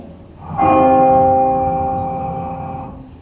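A single bell struck once, ringing out with a clear sustained tone that slowly fades, heard alone without speech.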